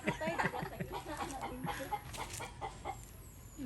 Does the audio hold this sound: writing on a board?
no